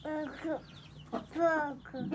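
Newly hatched Indian chicken chick peeping in short, high chirps, several in a row with brief gaps, close and fairly soft against a faint background.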